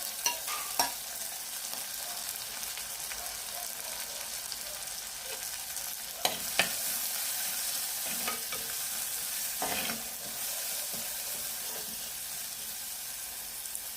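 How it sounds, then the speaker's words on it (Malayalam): Green chillies, shallots, dried chillies and curry leaves sauté in coconut oil, a steady close sizzle broken by occasional stirring scrapes and clicks of a spoon against the pan, with no talking. "അതിലേക്ക് അരിഞ്ഞ് വെച്ചേക്കുന്ന പച്ചമുളകും ചുവന്നുള്ളിയും എടുത്ത് വെച്ചേക്കുന്ന ഉണക്കമുളക്, കരിയാപ്പില ഇത് ഇത്ര ഇട്ട് കൊടുത്ത് നമുക്കൊന്ന് വഴറ്റിയെടുക്കാം"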